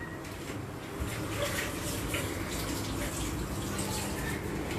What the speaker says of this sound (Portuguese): vou só umedecer aqui o meu pincel